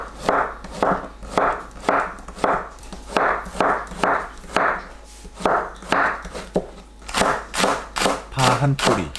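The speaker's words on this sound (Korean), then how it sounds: "애호박도 같은 크기로 납작하게 썰어주세요." Knife chopping onion and zucchini on a cutting board, a steady series of about sixteen crisp, evenly spaced chops, close and clear with no talking.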